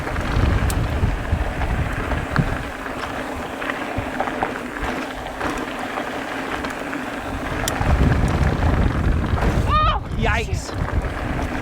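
Gusty wind roars across the microphone as a mountain biker lands on a trail near Richfield, Utah. The rumble is loud and steady, swelling near the end, and a rider's short startled exclamations come through over it.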